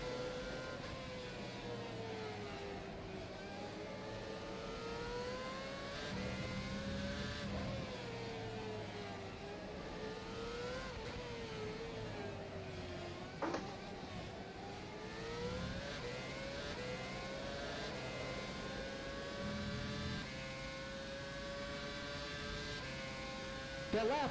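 A race car engine in the rFactor 2 racing video game revs continuously, its pitch climbing and dropping through gear changes, with a steady hum underneath and a voice talking over it.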